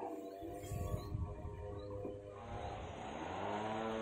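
A machine cutting wood drones in the distance above a rural field, its steady tonal whine faint and continuous, mixed with soft handling noises nearby.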